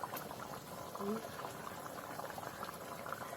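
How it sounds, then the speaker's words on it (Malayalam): A pot of Kerala fish curry with mackerel and green mango bubbling at a boil, a soft continuous simmering burble, quiet and close, with a couple of faint tonal blips partway through. "നമ്മളെ കറി ഉഷാറായിട്ട് തിളച്ച് വന്നിട്ടുണ്ട്."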